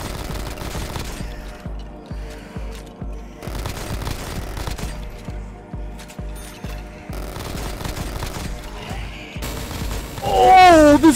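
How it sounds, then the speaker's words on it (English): Minigun firing in Black Ops Zombies, a rapid stream of game gunfire in repeated bursts with short gaps, ending in a loud swell of sound, with a voice briefly heard. "Oh, this is the minigun?"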